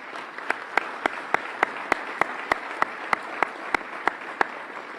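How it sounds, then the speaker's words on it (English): Audience applause at a mayoral swearing-in ceremony, a steady wash of crowd clapping with one sharp, close clap cutting through it at a regular beat roughly every third of a second throughout. "We all give them a round of applause."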